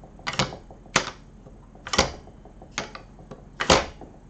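A PC USB handbrake lever for driving simulation clicks and ratchets several times with short pauses between pulls, sharp mechanical clacks close up, no voices.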